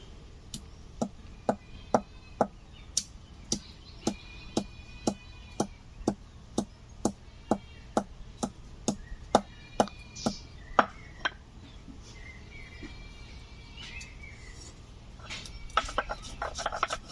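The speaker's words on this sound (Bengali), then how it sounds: "এই ফাঁকে আমি গরম মশলা বেটে নেব" Garam masala spices being ground with a little water on a grinding stone, a steady series of sharp rhythmic knocks and scrapes, evenly spaced and fairly close, with faint kitchen clatter near the end.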